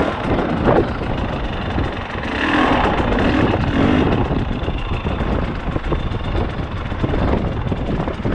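A 2020 KTM 300 two-stroke dirt bike with a Rekluse auto clutch idles steadily close by and is slipped into gear, a constant engine drone with wind buffeting the microphone.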